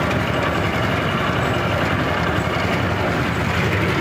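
A Władimirec T-25 tractor engine runs steadily while baling straw with a SIPMA Z224 baler, giving a loud, continuous, even diesel drone with no pauses.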